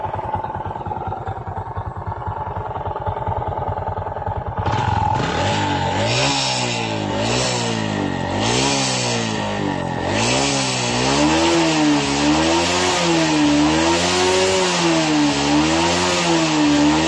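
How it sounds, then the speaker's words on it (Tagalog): A carbureted Honda XRM 125 motorcycle engine with a suspected worn side bearing and connecting rod, idling low and then revved in repeated rising-and-falling surges, loud and close with a rough, knocking undertone and no talk. "ang tunog ng kanyang makina ay para siyang side bearing, no?"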